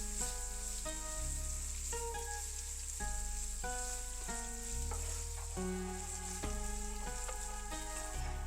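Salted potatoes frying in plenty of hot oil make a soft, continuous sizzle that sits quietly beneath louder background music for the whole stretch.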